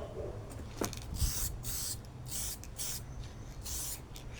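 Close, hissing bursts of a spray can coat a 3D-printed RC vehicle part in paint, with several pulses of about half a second each over a steady background hum.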